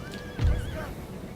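Cavalry horses in a Total War battle give one clear whinny with a low thump of hooves beneath it, fairly close and brief.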